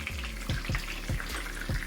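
Breaded chicken cutlet for chicken parmesan frying in hot oil, a steady close sizzle and crackle with rhythmic pops and bubbling bursts, no talk heard.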